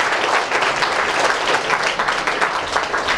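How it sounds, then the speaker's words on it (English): Dense, steady applause from an audience at a high school science exhibition, a continuous wash of many hands clapping at even loudness with no voices standing out. "I need a big round of applause for these efforts they have"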